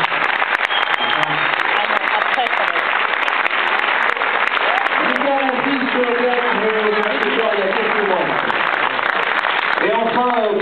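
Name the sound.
applause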